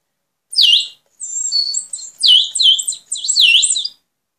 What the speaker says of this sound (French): ça fait des bruits d'oiseaux par-dessus